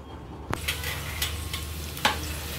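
Potatoes sauté in a pan with a continuous close hiss of frying oil, punctuated by a sharp metallic knock near the start and a second spatula scrape later on, with no voices.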